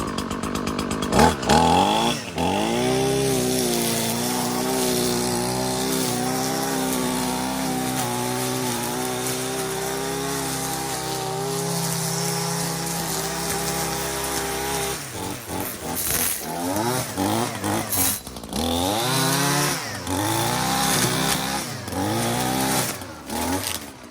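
An Echo SRM-3020U brush cutter runs continuously during everyday trimming, its two-stroke engine droning loud and close at a steady pitch, then revving up and down in the last several seconds.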